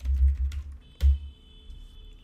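A few soft keystrokes on a computer keyboard as a search is typed, a short cluster of dull taps followed by a single louder tap and then near quiet.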